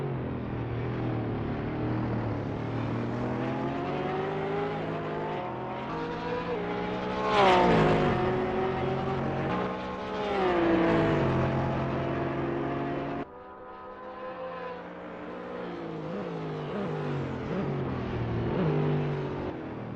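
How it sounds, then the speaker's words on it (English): GT race cars, including a Porsche 911 GT3R, scream past at Laguna Seca, engines rising and falling in pitch as they accelerate and shift, with a loud close pass in the middle and more cars droning behind. "Miller in turn 10 is second driving a Porsche 911 GT3R"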